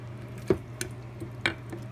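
Salted carrots are pounded with a wooden pickle packer, releasing brine; wet squishing thumps land a few times against a low steady background hum.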